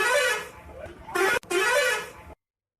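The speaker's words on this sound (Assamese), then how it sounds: "নাতি দূৰৈত দুখনমান গাড়ীৰ হৰ্ণ একেলগে বাজি উঠিল।" Several car horns blare together in the distance, two sustained honks separated by a brief gap, then a sudden stop into silence.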